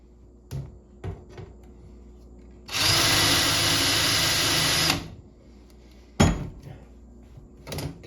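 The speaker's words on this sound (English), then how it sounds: "Guess what you can't do with cheap drill bits? Drill through stainless steel." A drill with a cheap bit grinds against a stainless steel kitchen sink during a freshwater tap installation, one loud two-second burst of whirring, between scattered knocks and clatter before and after.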